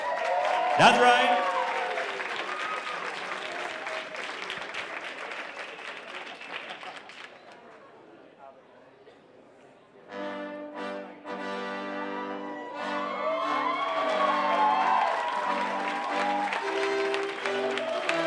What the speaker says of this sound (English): feel free to applaud the band